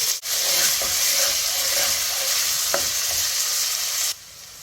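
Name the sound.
carrots, celery and onion cooking in a pot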